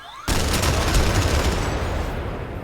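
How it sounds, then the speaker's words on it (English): Griffin gun from Final Fantasy VII The First Soldier firing a sustained, rapid stream of shots that starts abruptly and holds loud and close throughout, with no talking. "I'm more interested in the Griffin because this gun really beams."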